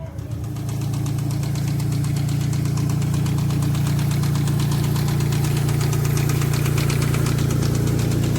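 A car engine runs steadily throughout, a loud, constant low hum with a rhythmic knocking pulse, like an idling or slowly driven vehicle on a test drive after a limited-slip differential install.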